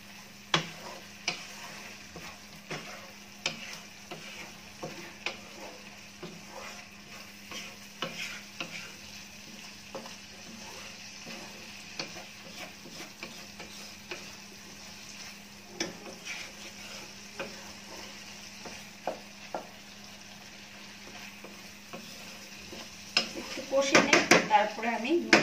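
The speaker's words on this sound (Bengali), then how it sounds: "এখন আমি চিংড়ি মাছটা দিয়ে দিব। দিয়ে মশলার সাথে একদম একটুখানি কষিয়ে নিব।" Prawns sauté with spices in a pan, a low continuous sizzle under frequent clicks and scrapes of a spatula against the pan, growing into a louder clatter of stirring near the end.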